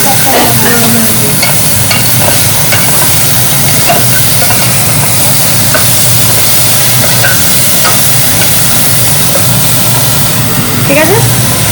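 Food frying in a hot pan in a home kitchen, a steady loud sizzle and hiss with occasional stirring scrapes running throughout, while people talk over it.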